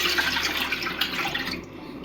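Water, two and a half cups, is poured into a pot of milk on the stove for homemade mac and cheese. A short, steady, close gush of pouring liquid is heard on its own.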